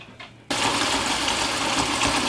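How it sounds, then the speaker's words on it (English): A faucet in an RV at a campground is opened and left running to flush hot water until it runs cool; a loud, steady rushing hiss starts abruptly and continues close by. "you're going to want to go ahead and run a faucet until that water gets cool"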